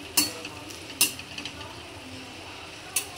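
A spoon scrapes and clicks against a pan as tomatoes and gongura cook, with a few sharp metallic knocks over a low, steady sizzle.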